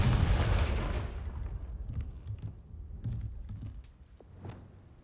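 A Confringo fire-blast spell from Hogwarts Legacy bursts loudly at the start and rumbles away over about a second, followed by softer scattered crackles and thuds.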